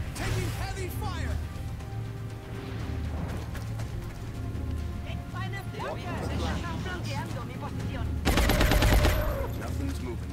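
Heavy gunfire in the turn-based strategy game XCOM Long War, sustained rattling shots over a low droning background, with a louder burst of rapid fire near the end; a voice speaks over the action.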